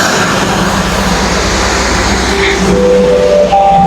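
Inside the Pangrango economy passenger train on the Sukabumi-Bogor line, a loud, steady rumble fills the carriage as it departs, with rising whining tones emerging toward the end as the train gathers speed.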